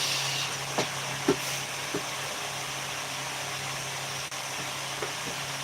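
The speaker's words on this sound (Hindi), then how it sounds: "अभी कम आवाज आएगा पंखे का, लेकिन आएगा" An electric fan runs steadily at low speed indoors, a constant broadband whoosh with a faint hum, interrupted by a few soft clicks and taps.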